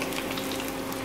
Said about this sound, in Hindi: फिश को हमारी हम 1-2 मिनट तक ही इसे फ्राई होने देंगे।